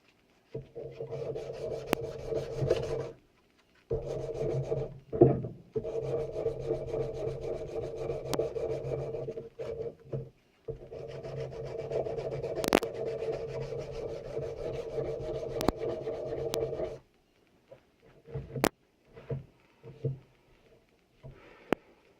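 Sandpaper rubs back and forth over the wooden stock of an antique Spanish black powder pistol under restoration, close rasping strokes in bursts with short pauses between them.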